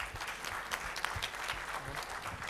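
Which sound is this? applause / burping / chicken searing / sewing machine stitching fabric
applause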